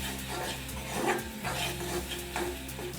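A spoon stirs cardamom powder into wood apple halwa cooking in a pan over a low flame, giving steady scraping and soft sizzling with a few louder strokes throughout. No one speaks.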